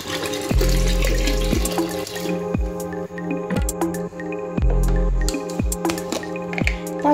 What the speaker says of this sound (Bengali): এবার আমি এর মধ্যে দিয়ে দেবো জল